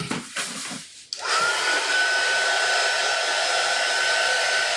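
A hair dryer blowing on a Dollar Tree ghost craft, switching on after a brief rustle and then roaring steadily and loudly at close range.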